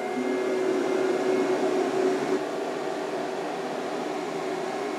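Dremel Digilab LC40 laser cutter running together with its plugged-in booster fan, a continuous broadband fan roar with a faint steady hum, moderately quiet and unchanging, no voices.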